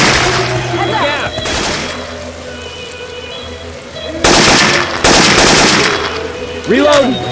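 Rapid bursts of video game gunfire from Left 4 Dead 2 using Syphon Filter weapon sounds, loud crackling volleys repeated in sequence, with character voices calling out between shots.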